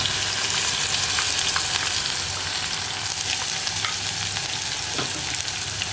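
Crushed ginger, garlic and onion fry in hot oil for Kerala-style rasam, giving a continuous loud, close sizzle with scattered small pops and faint stirring scrapes throughout and no voices.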